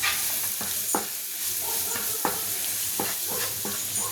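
Pepper paneer being stirred in a hot pan off the heat, a steady soft sizzle broken by a few scraping strokes of the spoon, close and without voices.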